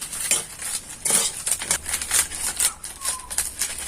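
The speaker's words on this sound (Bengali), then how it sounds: "খুব ভালো করে সমস্তটা মিশিয়ে নেব।" Semolina sweet batter being mixed with milk in a bowl, a utensil scraping and clinking against the bowl in repeated short strokes, close and moderately loud with no talking.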